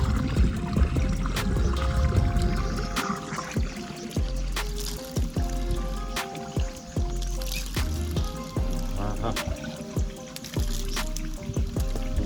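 Cool well water running and splashing, a close steady trickle with irregular drips and gurgling splashes, faint background noise and no talking.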